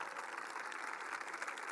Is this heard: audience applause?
yes